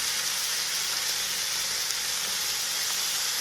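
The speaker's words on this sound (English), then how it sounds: "Ooh, there's that sound. Gotta get the bacon going." Bacon sizzles in a frying pan with a steady, dense crackling hiss that stays even and close throughout, no voices over it.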